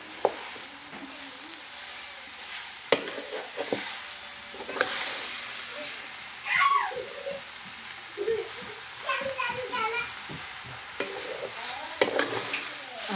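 Amaranth greens are stirred as they fry in a kadhai, giving a steady soft sizzle broken by scraping strokes and occasional louder knocks against the pan, with faint voices in the background.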